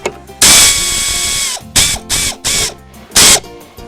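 A plastic part on a Crown Vic fuel pump is tightened with a power tool, producing several loud mechanical whirring bursts. They come in an uneven start-stop rhythm with short gaps between them, and no one speaks.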